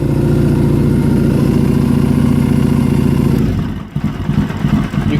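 A warmed-up Triumph Thruxton motorcycle engine idles steadily just after startup, a close, even throb that cuts out partway through, leaving handling clatter and faint knocks.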